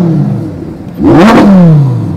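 A Lamborghini Huracan Technica supercar at a hillclimb paddock: a loud, close engine rev sweeps upward sharply, holds at a high snarling pitch, then slowly falls away, alone without talk.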